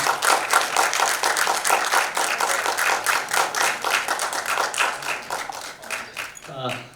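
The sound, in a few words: audience applause at an awards ceremony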